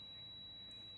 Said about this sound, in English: take your multimeter, select on the buzzer mode here.